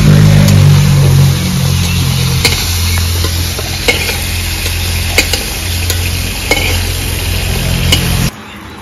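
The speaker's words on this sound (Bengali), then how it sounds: "এই তেলের ভেতরেই আলু ভেজে নেব।" Potatoes fry in oil left in a pan after shrimp, giving a constant close sizzle punctuated by sharp spatula clicks against the metal, loud throughout and then dropping suddenly near the end.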